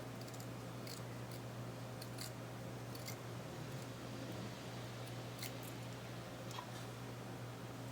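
Scissors make small, sharp snips while trimming a fabric seam allowance on doll boots, a few scattered clicks close by over a steady background hum, with no talking.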